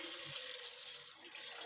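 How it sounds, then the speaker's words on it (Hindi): Water runs steadily into a pot holding a cup of rice, two cups added in a home kitchen for khoya kheer, a bright continuous trickle and splash, moderately close, with no talk over it. "2 कप पानी ऐड किया है"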